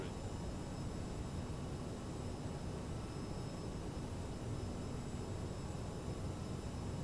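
Steady broadband engine roar and airflow from a CRJ 700 jet on its landing approach in Microsoft Flight Simulator, a constant wash of noise with no change in level.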